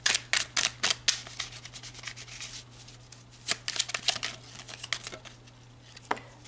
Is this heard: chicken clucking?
no